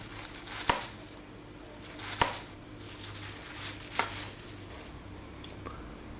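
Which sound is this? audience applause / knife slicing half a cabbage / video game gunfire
knife slicing half a cabbage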